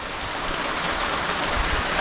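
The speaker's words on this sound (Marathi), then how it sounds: "जोरदार पाऊस आलाय" Heavy rain falling around a village house under construction, a dense, even hiss that holds steady and close throughout, with no voices.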